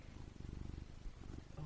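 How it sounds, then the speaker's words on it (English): A cat purrs softly and rhythmically close by, a faint low rumbling pulse with a brief rustle partway through. "I hope you can hear the purring."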